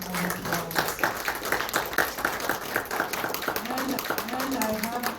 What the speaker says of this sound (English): Please give Anna another round of applause.